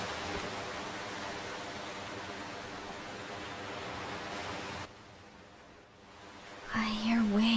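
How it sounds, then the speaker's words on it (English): Ocean waves in Octopath Traveler II, a steady broad hiss of surf that rolls on evenly, then drops away before a brief music-like tone near the end. "I hear waves."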